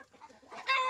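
Three-day-old turkey chicks on a Mindanao farm peep in a cluster of high, thin calls that grow louder and denser toward the end, close by.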